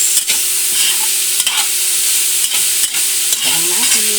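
Carrots and beans stir-fried for pancit bihon, a loud, steady sizzle with repeated sharp scrapes of a utensil against the pan, close up and without talk.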